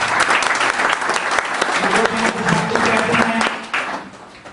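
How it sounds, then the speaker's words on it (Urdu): Audience at a formal dinner event in Pakistan gives a sustained round of hearty applause, dense clapping filling the room before trailing off near the end. "ان کے لیے بھرپور تالیاں"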